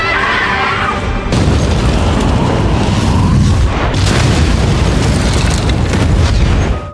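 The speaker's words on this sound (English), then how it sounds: "As the explosion echoed through the sky, the bridge shattered." A massive explosion blows up a bridge in The Walking Dead: a loud, booming roar that swells and holds for several seconds with crashing debris, then cuts off sharply at the end.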